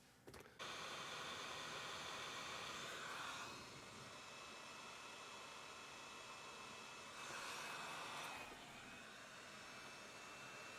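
Heat gun blowing on heat shrink tubing while building a linked dipole antenna, a steady loud airy roar with a faint whine that swells twice, running alone throughout.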